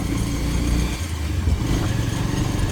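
A heavy motorcycle's engine runs at a steady rumble, loud and close, a low continuous drone with slight throttle wobble throughout and no speech.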